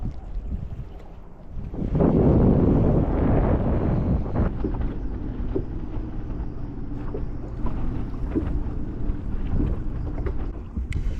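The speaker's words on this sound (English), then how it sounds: "the wind is absolutely crushing me." Strong wind roars across a small fishing boat out on the water, gusting hard and buffeting the microphone in a continuous rushing noise that swells loudest early on.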